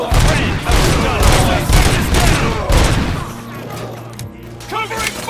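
Dense bursts of gunfire in the Robocop Rogue City video game, rapid overlapping shots for the first three seconds, then thinner scattered shots with steady low background tones, loud and close.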